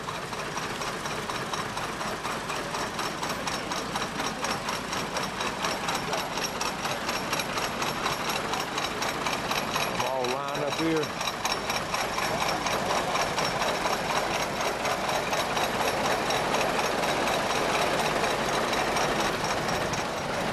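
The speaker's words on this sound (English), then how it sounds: "these old tractors will finish the job one more time." An old tractor engine runs steadily and loudly, its chugging rhythm constant throughout, with a brief voice speaking over it midway.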